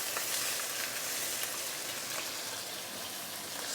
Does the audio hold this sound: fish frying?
yes